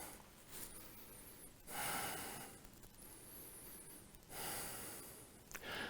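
Heavy breathing during a vinyasa yoga flow: slow, deep nasal inhales and exhales that come in long swells, close and fairly quiet, with no speech.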